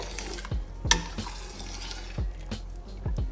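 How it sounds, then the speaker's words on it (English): Vegetable soup being stirred in a pot after lentil pasta goes in, with several spaced scraping clinks of a utensil against the pot over a low simmering background, no talking. "And I'm also going to add the lentil pasta. Now I'm only going to do half a box. Give that a nice stir."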